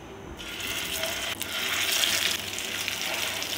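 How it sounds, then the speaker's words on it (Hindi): Shami kebabs sizzle in a pan of hot oil, a dense close-up hiss that swells slightly after a quieter start and carries on without pause or voices. "अभी अपने कबाबों को 1 बाय 1 फ्राई कर लेते हैं"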